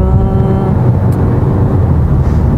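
A Citroen C3 Aircross SUV cruises at highway speed, heard from inside the cabin as a loud, steady low rumble of road and engine noise with a faint whirring hum that holds even throughout.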